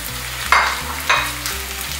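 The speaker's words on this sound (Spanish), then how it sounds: "Y ahora añadimos ya la carne." Meat dropped into a frying pan of onions for moussaka, two loud bursts of sizzling about half a second apart over a continuous close frying hiss, no voices.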